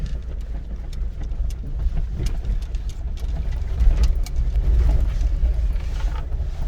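A Mahindra SUV driven along a road, with a steady low engine and road rumble, some wind buffeting, and a slight swell in loudness midway; no voices.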